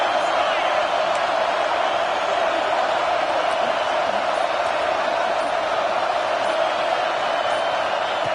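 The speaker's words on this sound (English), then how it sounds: "this big crowd doing everything possible to inspire this defense down here near the goal line" A stadium crowd in a college football video game roars continuously as the defense holds near the goal line, a dense, steady wall of cheering that never lets up.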